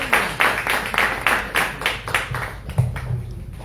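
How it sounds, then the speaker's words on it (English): A small political forum audience claps in a sparse, uneven rhythm of distinct close hand claps that thin out toward the end, with faint background voices. "Give us a round of"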